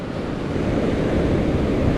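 Ocean waves wash onto the shore around midday in a steady, close, rushing surge mixed with wind, continuous and loud with no voices.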